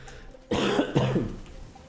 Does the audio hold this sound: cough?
yes